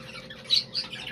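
Small birds in an indoor breeding room kept at about 18 degrees give a few short squawking chirps close by, two sharper calls standing out over a faint steady room hum.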